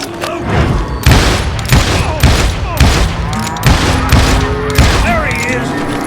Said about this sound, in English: Shoot that son of a bitch!